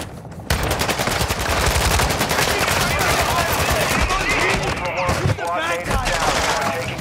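Rapid automatic gunfire rattles nearly nonstop in Call of Duty DMZ, loud and close, with dense bursts of shots and voices talking over the shooting.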